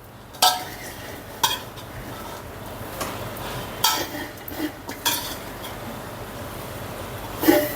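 Gongura leaves frying and being stirred in a pan for Guntur-style pulihora gongura, with a steady soft sizzle broken by several sharp metallic scrapes and clinks of a spoon against the pan.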